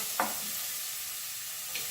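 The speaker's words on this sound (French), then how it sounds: "Allez, on remue. On fait attention à ce que ça ne brûle pas." Vegetables frying in a pan get a stir, a soft, quiet sizzle underneath with two brief scraping strokes near the start and end, close up and without speech.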